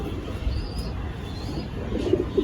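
Pigeons coo faintly at a busy pigeon market, a few soft low calls near the end over a murmur of background activity.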